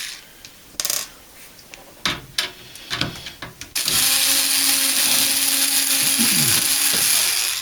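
A power screwdriver backs screws out of a Speco DVR unit. Short whirring bursts and clicks come first, then a long, loud, steady whir up close, with no one talking.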